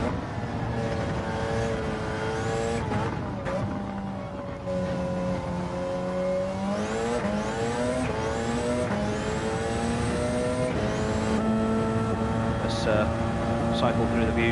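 A Group 1 race car on Road Atlanta's back straight in Gran Turismo 7, its engine screaming loudly and steadily as the pitch climbs and drops through several gear changes.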